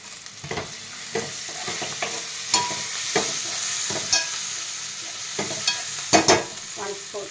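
Turmeric and mint hit hot oil with browned onions for a mutton curry, giving a steady close sizzle broken by repeated scraping stirs of a spoon against the pan; no talk.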